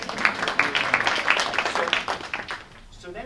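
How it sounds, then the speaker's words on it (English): An audience of seated attendees at a talk on closing the achievement gap gives a brisk round of applause, dense overlapping claps at moderate loudness that taper off after a few seconds, with a voice over the top. "get a nice round of applause"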